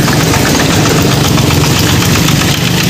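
A motorbike engine runs loud and close in a steady, unbroken drone while being ridden, with a low rumble and a faint knocking throb throughout.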